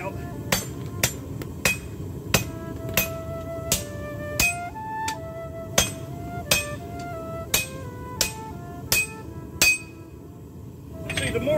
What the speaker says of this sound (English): while I'm hammering on the top of it like that